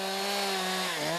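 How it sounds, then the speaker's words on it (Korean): A chainsaw cuts branches off felled trees at a logging site in the Russian Far East, its loud, close, high whine holding steady, then dipping in pitch near the end as the load changes. "고요한 이곳에 요란한 톱질 소리만 반복된다."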